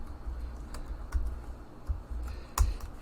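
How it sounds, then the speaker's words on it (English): Keys clatter on a computer keyboard while text is entered into a LibreOffice Calc spreadsheet cell, a few scattered, fairly close taps with short pauses between them over steady low room noise. "if I start typing something else in there"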